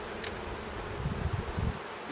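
A low, steady buzz of many honey bees hums close by at a hive, swelling slightly in the middle with no voices.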